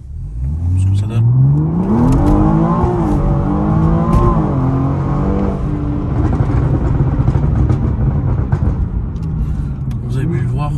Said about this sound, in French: Un petit départ arrêté, voilà ce que ça donne.